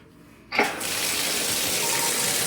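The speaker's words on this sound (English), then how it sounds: "Let's do a water pressure test real quick." A hotel bathroom shower at Rosen Centre Orlando is switched on at full pressure, bursting in with a sudden splash and settling into a loud, steady, close-up hiss of running water.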